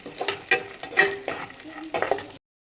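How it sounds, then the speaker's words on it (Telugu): Cashews and raisins frying in ghee in a pan, with a soft sizzle broken by repeated scraping stirs of a spoon, close and moderately loud, ending abruptly. "ఇందులో మనం కొంచెం నెయ్యి వేసుకున్నాము ఎండు ద్రాక్ష వీటిని మంచిగా ఫ్రై చేసుకుంటాం"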